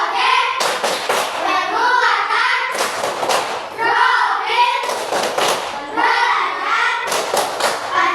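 A group of children performs the Tepuk P5 clapping chant, loud bursts of rhythmic clapping and thumping alternating with chanted voices in repeated phrases, close and energetic.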